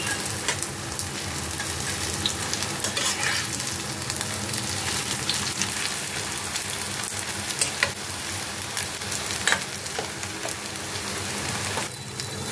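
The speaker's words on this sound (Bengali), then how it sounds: "একদিকটা হয়ে গেছে, এখন আমি উল্টে দেবো পাকোড়াগুলো।" Cabbage pakoras sizzle in hot oil while being flipped, a dense, steady crackle of frying that runs throughout with a few sharper pops and no talking.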